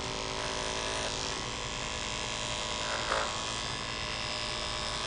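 Electric dog clippers with a 7 blade buzz steadily while grooming a schnauzer, a continuous close motor hum with slight changes in load as they move through the coat.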